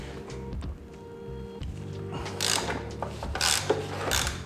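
Bolts on a sportbike's triple clamp are loosened with a ratchet wrench while fitting dirt bike handlebars, giving close clicking ratchet sounds and metallic mechanical rubbing in uneven bursts, getting louder toward the end.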